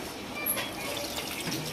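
Water poured from a vessel into a cooking pot of washed spinach leaves, a soft continuous splashing and trickling at moderate distance, steady for about two seconds with no talk over it.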